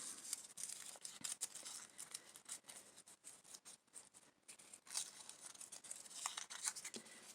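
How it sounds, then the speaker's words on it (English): Paper pieces crumpled up by hand for vintage-style journaling cards, a close, continuous crackling and crinkling with bursts of tearing-like rustle and short pauses. "So you just crumple it up."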